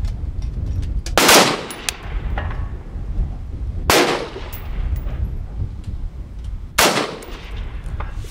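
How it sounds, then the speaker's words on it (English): Gunfire at an outdoor shooting range: three sharp, loud shots spaced a few seconds apart, each ringing out briefly over a steady low background rumble. "There's a bunch of guys shooting"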